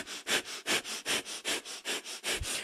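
Breath of fire during a kundalini yoga pose: about a dozen rapid, forceful nasal exhalations in an even rhythm, close and clear, with no talking.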